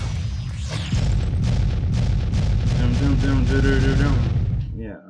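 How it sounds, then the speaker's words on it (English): Explosions boom in the action RPG Secrets of Grindea, a rapid run of loud, punchy blasts and crackles layered over game sounds before cutting off abruptly at the end. "Yeah, explosions."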